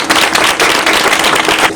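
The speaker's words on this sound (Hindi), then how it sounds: "जोरदार ताली बजाएंगे।" Applause from the audience at a church women's meeting, a dense burst of clapping that runs steadily for the whole two seconds, loud and close with no voices over it.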